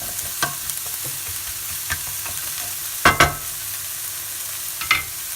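Onions and garlic frying in oil in a pan for Portuguese bacalhau à brás, a steady close sizzle with a few scraping stirs and clacks of the utensil against the pan.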